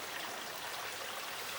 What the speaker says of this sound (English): I'm confident the water running past me seeps from the corridor wall behind me.